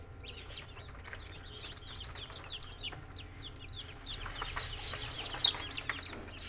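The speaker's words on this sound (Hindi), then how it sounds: "ये गोल्डन बेंटम का चूजा," Golden bantam chick chirping with high, quick peeps among other young bantam chicks in a farm brooder, steady soft cheeping that grows busier and louder near the end, with no talking.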